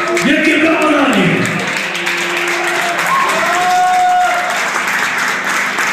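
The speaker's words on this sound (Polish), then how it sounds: "Wielkie brawa dla nich!" A concert audience at Rotunda in Kraków applauds the bands with loud, sustained clapping, while a voice carries over the start and sung or called tones drift through the crowd noise.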